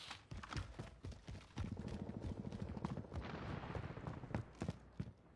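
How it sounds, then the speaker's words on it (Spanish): Rapid gunfire bursts from an online shooter video game, dense crackling shots repeating through the clip over a steady background, with no speech. "Está tirándome, Rafa."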